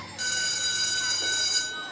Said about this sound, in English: that's the bell, Yumi and Piper. Lunch is over